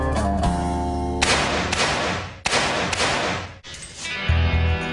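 A Stag Arms rifle fires several sharp, loud shots close by, each bang followed by a broad ringing decay, spaced about a second apart.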